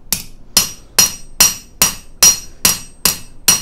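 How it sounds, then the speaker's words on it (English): A jewelry-making hammer falls loosely onto metal resting on an anvil, ringing out in eight steady, evenly spaced metallic strikes, loud and close, each with a short bright ring, and no talking. "I'm holding onto the hammer and I'm letting it just fall."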